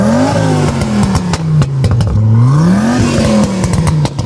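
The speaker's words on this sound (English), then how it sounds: "Can we get a couple of blips on the old throttle?" A rally car at a hillclimb idles loudly and close, then takes a couple of sharp throttle blips, its engine note rising and falling with some mechanical clatter and no talking.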